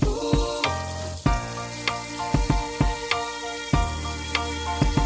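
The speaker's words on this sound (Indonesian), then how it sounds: "Saya goreng dulu tomatnya, cabenya, bawang putih, bawang merah" Tomatoes, chilies, garlic and shallots frying in oil for sambal, a steady close hiss and sizzle broken by irregular sharp crackles and pops, with no talking.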